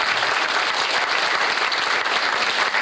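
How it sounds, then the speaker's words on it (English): Sustained, steady applause from an audience at a Vietnam Veterans Memorial dedication in Danbury, a dense wash of clapping held loud and even from start to finish with no pause. "Would you please give a round of applause?"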